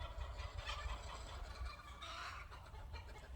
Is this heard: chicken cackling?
yes